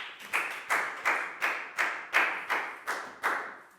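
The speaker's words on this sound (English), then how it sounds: "High five and a big round of applause for Nadia" A primary school class claps together in a steady rhythm, about eight even, close-sounding claps spaced roughly half a second apart, with no voices over them.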